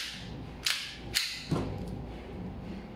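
Umarex Glock 17 Gen 5 airsoft pistol firing three sharp, snappy shots at uneven intervals, fairly close, over a low background hum.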